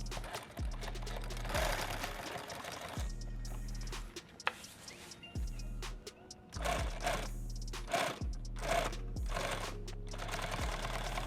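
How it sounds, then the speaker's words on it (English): A sewing machine stitching the handle of a rifle case runs in repeated bursts of rapid mechanical chatter, close and moderately loud, with short pauses between runs. "And now I'm just going to sew this right here and make this handle."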